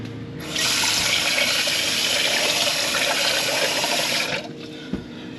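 Steady running water pours into a pot as sushi rice is rinsed of its starch, a continuous close rush lasting several seconds before cutting off, with a small knock near the end.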